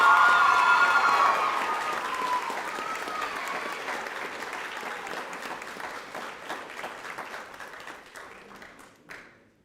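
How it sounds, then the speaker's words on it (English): Applause for award winners at a high school co-curricular prize giving, a crowd clapping loudly at first and then thinning and fading steadily over about ten seconds, with scattered claps near the end. "Round of applause for De La Hoya and Forest."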